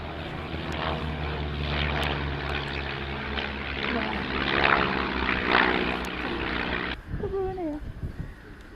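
A Spanish-built propeller aircraft, made for the Spanish Air Force, flies at an evening air display at Shuttleworth. A steady, loud engine drone is mixed with public-address commentary, then drops off sharply near the end.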